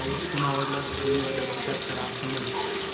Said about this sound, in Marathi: तो धुवून घेऊ एकदा कारण छोटे छोटे बटाटे असल्यामुळे मी दोन तीन बटाटे घालणार आहे त्याच्यामध्ये त्याला धुवून घेते आधी मस्तपैकी